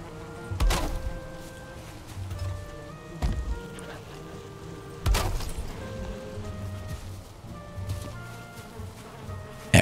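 Bees buzzing in a video game scene, a steady insect drone punctuated by a few sharp knocks and thumps.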